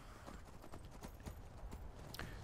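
Horses galloping in the Skyrim video game, a steady rapid clip-clop of hooves for the whole stretch at moderate loudness, with a faint neigh near the end.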